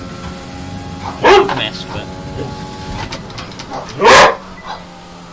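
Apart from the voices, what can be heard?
dog barking while doing tricks for dinner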